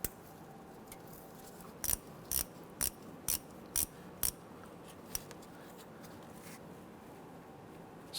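Ratchet wrench snugs down the rear axle cross pin bolt on a 2006-2010 Hummer H3, giving six crisp, evenly spaced clicks at close range in a quiet garage.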